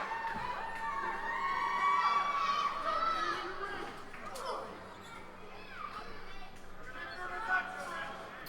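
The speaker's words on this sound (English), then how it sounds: "listen to this explosion from a near-capacity crowd in Elizabeth," A near-capacity crowd at a women's wrestling match in Elizabeth, Pennsylvania roars and cheers loudly and steadily, with a commentator talking over the noise throughout.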